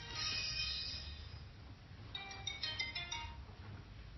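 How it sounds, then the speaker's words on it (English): A mobile phone ringtone chimes faintly in a lecture hall during a meditation talk, a few bright repeated melodic notes over low room hum. "I'm always fascinated by people's ringtones"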